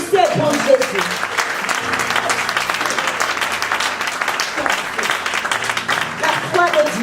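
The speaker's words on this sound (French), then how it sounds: "Put your hand together for Jesus." A church congregation applauds for Jesus during a service, dense sustained clapping from many hands filling the room steadily, with a voice speaking over it.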